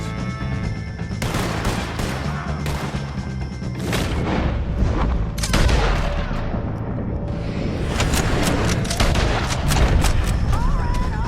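Repeated gunshots ring out in a close, loud firefight from Red Dead Redemption 2, with sharp cracks and booms in irregular bursts over a dense wash of battle noise and shouting.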